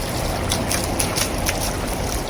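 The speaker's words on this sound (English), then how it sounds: "you can hear the little splatters" Water spilling from a pipe splashes onto a wooden water wheel in a snowy Northern California forest, a steady close wash of trickling and splattering with brief brighter splashes, no talk.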